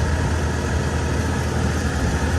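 A tractor engine idles beside a water pump, a steady, close low rumble with an even mechanical drone and no change in pitch or speed over the short stretch.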